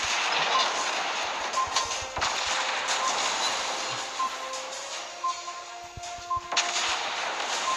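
Naval guns fire in the World of Warships Blitz battleship game, with repeated heavy booming shots and crashes over a constant roar of sea and engine noise, mixed with short game beeps.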